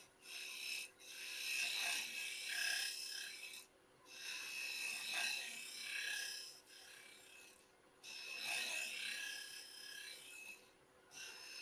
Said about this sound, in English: Just a little bit of shear scraping left to do up in this little corner